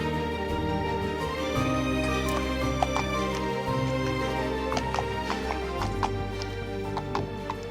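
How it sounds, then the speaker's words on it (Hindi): A horse clip-clops at a steady walking rhythm as it moves away, hoofbeats sharp over a constant low background rumble, with a faint whinny-like sound; no speech. "घोड़ा जा रहा है, उसे रोको।"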